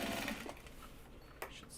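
A sewing machine stitches bag interiors from Japanese fabric in short runs. The motor whirs and stops, then a brief burst follows near the end, and the whole thing sounds fairly quiet and close.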